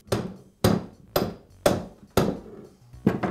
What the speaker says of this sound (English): use a rubber mallet to secure the chuck tightly into the spindle